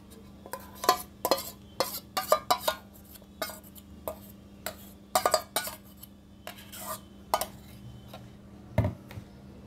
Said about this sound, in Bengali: এবার আমি দইটা এর মধ্যে সব একসাথে মিশিয়ে নেব।